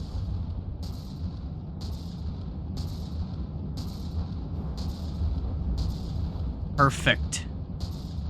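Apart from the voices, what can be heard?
rotary cannon firing in video game From the Depths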